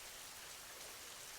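Heavy rain pours steadily outdoors in a village, a dense, even hiss of drops beating on surfaces throughout with no voices.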